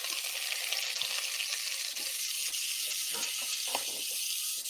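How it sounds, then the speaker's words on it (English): Onions frying in a pan with cooked bacon fat for a buffalo recipe, a soft, steady hiss of sizzling with a few faint clicks and stirring scrapes, heard alone without talk. "Now what we're going to do is add our onions."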